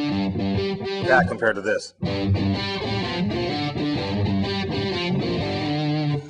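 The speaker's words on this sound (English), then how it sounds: "a little bit more distortion, just kind of beating up your guitar a little bit" Distorted electric guitar plays a blues riff with gritty, heavily driven tone, continuous and loud, with a brief pause near two seconds before the riffing resumes; someone speaks briefly over the playing.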